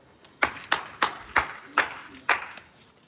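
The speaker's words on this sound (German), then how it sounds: "Ist das Klatschen die Alternative zur Klingel?" Someone claps their hands outside a house in rural Argentina in place of a doorbell, six sharp, evenly spaced claps standing alone against a quiet background.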